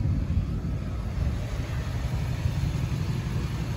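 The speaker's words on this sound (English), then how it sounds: "let you hear the truck run a little bit." A 2012 Ford F-250 XLT pickup truck idles outdoors, a close, steady low rumbling purr with even, throbbing engine pulses and no talking over it.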